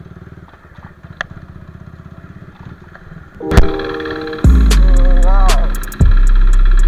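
A new sports superbike's engine starts with a sharp burst, then holds a loud, steady idle close by, blipped up once before settling and roaring again, with a voice exclaiming briefly over it.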